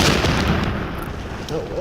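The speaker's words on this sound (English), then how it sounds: "No, it's an explosion." A heavy explosion booms and rolls on for about two seconds, a loud, broad blast that slowly fades.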